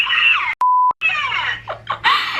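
A steady high-pitched electronic censor beep cuts in abruptly between bursts of excited, laughing speech, lasting about a third of a second.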